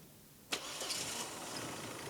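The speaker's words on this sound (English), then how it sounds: "Start the engine" An Austin Rover car engine with single point injection cranks and catches with a sharp start, then settles into a steady, fairly quiet idle.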